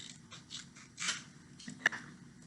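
Scissors cut a strip from a semicircle of cereal box cardboard in a few soft snips, ending in one sharp, distinct clip, all close-up and quiet with no talk.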